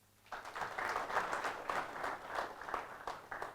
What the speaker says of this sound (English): So clap for this gentleman